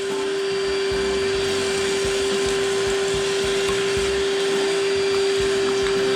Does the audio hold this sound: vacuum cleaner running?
yes